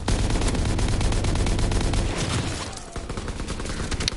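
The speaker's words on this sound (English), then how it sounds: "We got a glide bomb." A glide bomb detonates in a WWII video game, opening with a loud, dense rumbling blast that rolls on for a couple of seconds before fading into a rattle of distant gunfire-like crackles.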